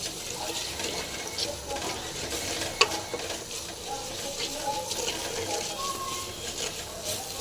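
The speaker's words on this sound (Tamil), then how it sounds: "போட்டு இது ஒரு நல்லா ஒரு கலக்கு கலக்குங்க" Steady sizzling and frying in a pan with soft scraping of stirring throughout, plus one brief sharp clink near the middle.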